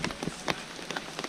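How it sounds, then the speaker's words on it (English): Rain falling at a backcountry canoe campsite in Algonquin park, a soft steady patter with scattered sharper drops tapping nearby, quiet and without speech. "once again raining on us"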